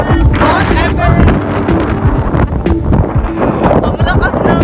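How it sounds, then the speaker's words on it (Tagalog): Strong outdoor wind buffets the microphone in Sorsogon, a loud, steady rumbling roar that runs the whole time with no pauses. "Ang lakas ng hangin"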